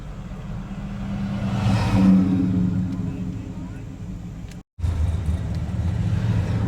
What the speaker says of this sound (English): Uh-oh, somebody doing a burnout up there.